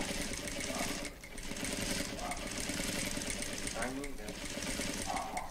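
An industrial Jack sewing machine stitches with a rapid mechanical hum, briefly pausing near the start, while people talk over it.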